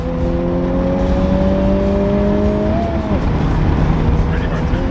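Turbocharged Honda Type-R accelerating from inside the car, engine tone climbing steadily then dropping at a shift, loud and continuous.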